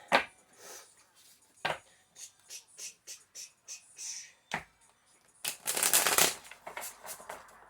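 Close, crisp riffling and tapping of cards in quick irregular bursts, ending with a longer rapid shuffle.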